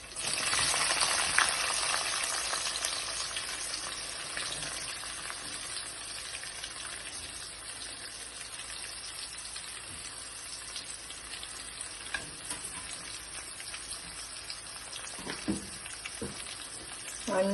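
Onions sizzle steadily in a pan, a fairly quiet continuous frying hiss with a few clinks of stirring toward the end.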